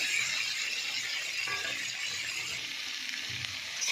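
Potatoes, onion, ginger and garlic sauté in a pan, giving a steady bright sizzle and frying hiss that holds evenly throughout with no voices over it.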